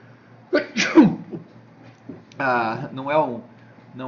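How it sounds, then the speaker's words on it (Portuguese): A single loud, close sneeze bursts out, followed by a short pause and then someone speaking. "isso aqui vai ficar ótimo na gravação, né, esse espirro"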